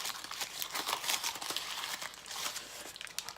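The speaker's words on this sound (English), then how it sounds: "Got a little plastic covering on there. Take that off." Plastic film crinkles and crackles as a thin protective covering is peeled off a new Cult bicycle part, close and continuous for a few seconds with no voices.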